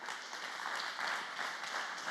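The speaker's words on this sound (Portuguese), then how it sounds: "Dê uma salva de palmas, amém?" A church congregation breaks into steady applause, a dense, even wash of many hands clapping at moderate volume for the whole stretch, with no voices standing out.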